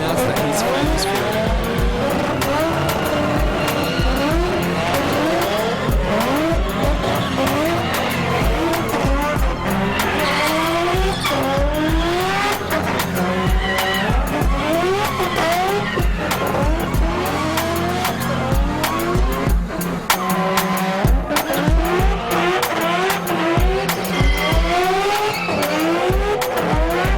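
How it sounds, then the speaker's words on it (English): Mad Mike's 2006 Mazda RX-7 drift car with a line lock kit doing stand-up burnouts: loud, sustained rotary engine howl with rising rev sweeps and constant tire squeal, continuous and close for the whole stretch. "the line lock kit, which enables Mad Mike to perform the mad stand-up burnouts that he's famous for"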